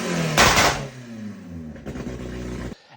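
A lifted all-wheel-drive Honda Civic off-road build revs hard nearby, a sharp burst of engine roar that drops back, then climbs in a second shorter rev before cutting off abruptly.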